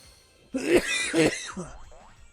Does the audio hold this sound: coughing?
yes